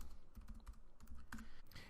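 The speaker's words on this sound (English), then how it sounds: "I'm typing one-handed" Rapid, uneven clicking of computer keys as someone types one-handed, close and fairly quiet, with short bursts and pauses and no talking.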